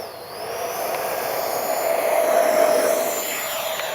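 Steady high-pitched whine of a small jet engine on an FMS 70mm Avanti S V3 RC jet plane, droning continuously, swelling slightly louder midway as it makes a low pass at moderate distance.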